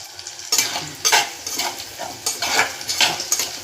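Ginger garlic paste sautéing in a pan, a steady sizzle broken by repeated scraping strokes of a spoon or spatula against the metal, close and loud.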